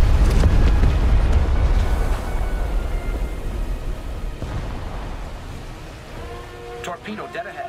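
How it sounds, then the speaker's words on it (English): A torpedo strikes an enemy ship in a naval combat video game featuring an MTB Vosper torpedo boat, setting off a loud, deep rumbling blast that slowly fades over several seconds before brief sharper game sounds close it out. "I see a torpedo impact on the enemy ship."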